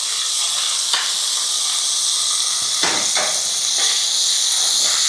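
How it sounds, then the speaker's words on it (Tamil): Ingredients sizzle and splutter in hot oil in a pan while upma is cooked with coriander leaves. The steady hiss holds throughout, with a few sharper crackling pops standing out. "இது கொஞ்சம் படபடன்னு பொரியும்."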